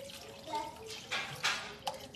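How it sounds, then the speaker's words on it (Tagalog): Water splashes and trickles into a cooking pot of sardines and miswa noodles, with a few soft drips and splashes over a low background hum. "Dagdagan ko pa ng tubig kay yung miswa, di ba?"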